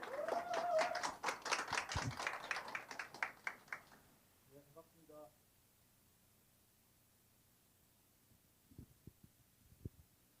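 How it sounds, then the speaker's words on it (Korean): Audience claps to welcome a speaker at a social economy and climate forum in Chungnam: a few seconds of quiet, sparse clapping that fades quickly, leaving near-silence with a few soft taps near the end. "큰 박수로 환영해 주시면 감사하겠습니다."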